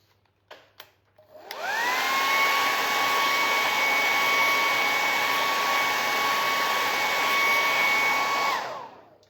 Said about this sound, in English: we will hit that with the hairdryer first